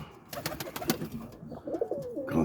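Roller pigeons coo in a small loft early on a Sunday morning, several soft, overlapping calls rising and falling close by over a few seconds.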